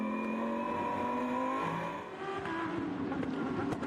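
A Lamborghini Super Trofeo race car at Vallelunga drones steadily and close, its engine tone shifting as it eases through a corner, with the engine sound dipping briefly midway.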